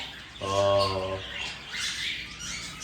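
Pet emerald doves give one drawn-out, harmonic call at close range, followed by faint background noise.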